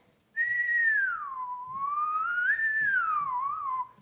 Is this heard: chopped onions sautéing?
no